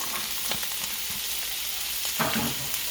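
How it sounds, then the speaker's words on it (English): Onions, mushrooms, red and green peppers, carrots and celery stir-fry in oil for Szechuan chicken, a soft steady sizzle with a few scraping stirs, quiet and free of speech. "we're going to stir fry this baby up"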